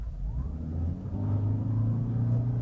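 A 2019 Toyota Prius AWD accelerates hard from a standstill, its low engine drone rising steadily in pitch and loudness with a whirring electric tone over road rumble, heard from inside the car with no talk.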